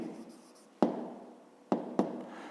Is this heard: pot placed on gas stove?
no